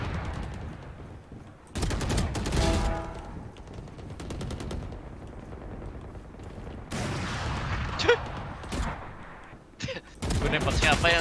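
Rapid automatic gunfire bursts from a first-person shooter video game, loud and repeated in several clusters, with brief pauses between bursts and gameplay effects mixed in.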